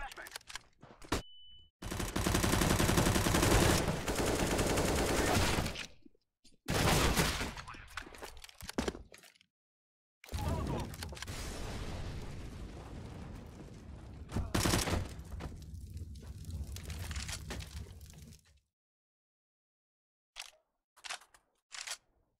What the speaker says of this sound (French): I'm throwing flashbang.